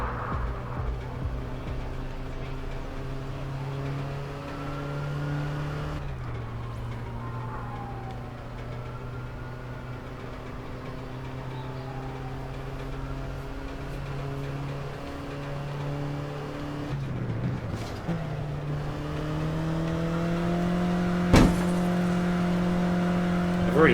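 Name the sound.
car driving and revving in video game APB Reloaded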